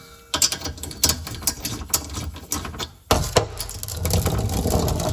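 Bolt being removed during rear shock absorber replacement on an Opel Astra J, with rapid clicking ratchet strokes and metallic clanks, then a burst of continuous mechanical rattling, close and fairly loud.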